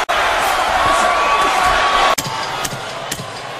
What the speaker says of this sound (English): Crowd chanting Crawford, Crawford.